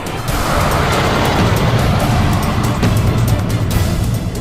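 A car drives fast during a chase in a dramatized TV series. A loud, steady engine and road roar with whooshing wind fills the whole stretch, close up and without speech.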